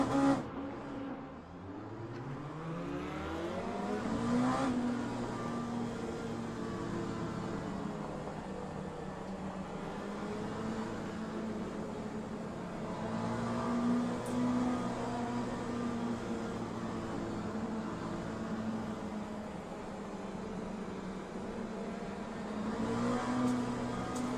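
An Oreca 07 LMP2 prototype race car lapping Portimão in Le Mans Ultimate, its engine droning steadily throughout with repeated rising revs through the gears and brief lifts, heard alone without voices.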